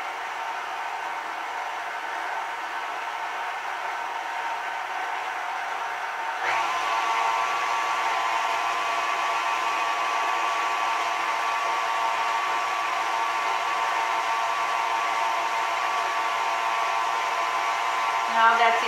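An electric mixer whirs steadily, blending cake batter with milk for a chilled Brazilian coconut cake; the motor hum steps up louder about a third of the way through and then holds an even drone to the end.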